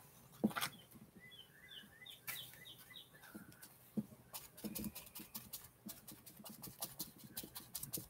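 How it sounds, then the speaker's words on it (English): A small bird chirps in short, high twittering bursts through the first few seconds, fairly faint and set against a busy indoor background with occasional louder knocks and rustling from crafting with paper envelopes and cards. "Bird's happy about something."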